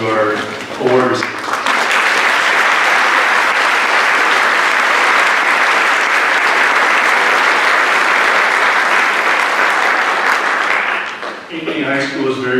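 Sustained applause from a high school awards ceremony audience honoring recipients, rising after a voice speaks, holding a thick steady roar, then tapering as speech resumes.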